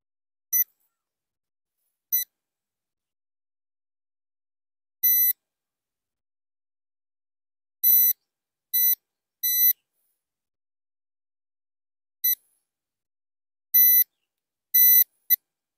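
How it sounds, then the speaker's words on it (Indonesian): An Ionica metal detector beeps on detecting a target, giving short high-pitched electronic bleeps at irregular intervals, alone and fairly clear, some single and some in quick pairs or triplets. "Ini sudah terdeteksi ya. sudah berbunyi."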